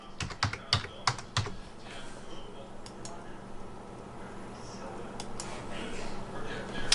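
Computer keyboard typing in a quiet room: a quick burst of clicking keystrokes at the start, then a few scattered taps over a steady low background hum.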